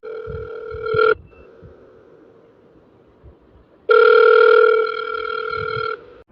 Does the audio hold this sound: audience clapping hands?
no